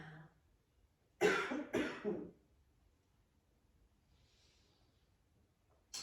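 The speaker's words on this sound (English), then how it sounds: "Sorry, I'm coughing." Two harsh coughs in quick succession, close and loud, followed by near silence, during a morning yoga flow class.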